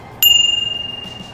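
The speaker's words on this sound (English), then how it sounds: "he gave her that bell so when she's approaching people on the trail, she can give them a little warning" A single bright ding from a bicycle bell on a full-suspension mountain bike, struck once and left to ring out with a clear, gradually fading tone.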